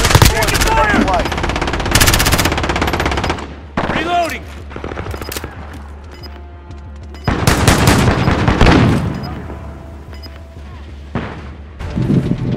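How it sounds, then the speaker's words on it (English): Heavy gunfire in the video game Call of Duty: Modern Warfare comes as loud automatic bursts with booming shots in between, broken by quieter gaps, and voices speak along with it. "Taking fire"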